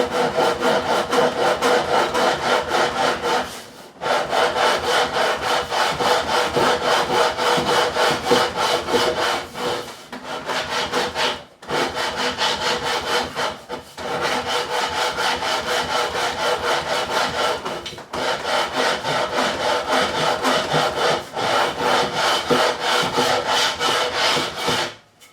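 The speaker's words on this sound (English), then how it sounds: "I'll stick to the sanding." Hand sanding with sandpaper on the wooden neck of a Warwick Corvette Double Buck bass during a neck repair. Loud, steady back-and-forth scraping strokes continue for about 25 seconds, broken by a few short pauses, with no talk.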